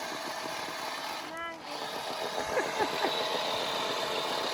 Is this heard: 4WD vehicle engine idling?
yes